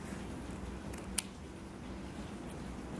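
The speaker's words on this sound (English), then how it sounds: "I'm gonna cut this piece of material off" Scissors cut a piece of fabric off a onesie in one quick, crisp snip against a quiet background hiss.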